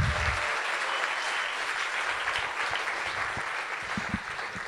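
Audience at a poetry night event applauds steadily, a dense sustained wash of clapping that stays level and moderately distant throughout, with no talking over it.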